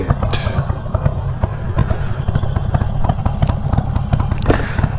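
Harley motorcycle fitted with LAF exhaust pipes idles with a loud, steady low rumble, continuous engine chug with clattering thumps close by, no talk over it.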